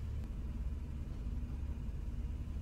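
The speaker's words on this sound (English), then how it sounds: "now we're gonna run the engine" A car engine idles during an EVAP system test run from a bidirectional scanner, a low, quiet, continuous rumble with no throttle changes and no voices.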